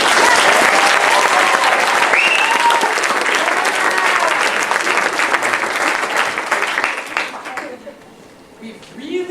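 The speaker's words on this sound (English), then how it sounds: "I'd like to give a big round of applause for all teachers everywhere they are" An audience bursts into loud, sustained applause and cheering for teachers at an awards ceremony, dense clapping that tapers off near the end.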